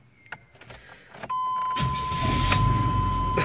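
An old pickup truck being switched off and started again, with a few short clicks and a beep, then the engine catching and settling into a steady, close idle.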